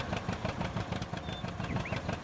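A small tractor engine idling in the farming game Farming Simulator 19, a steady low throbbing rumble at moderate level that runs on alone without talk.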